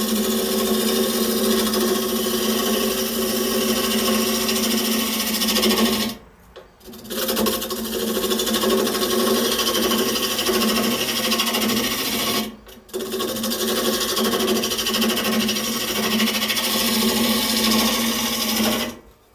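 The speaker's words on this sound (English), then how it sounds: "I can take good clean cuts with the spindle roughing gouge" A spindle roughing gouge cuts maple spinning on a wood lathe, making a loud steady rasping whir in long passes broken by two brief pauses where the tool lifts off.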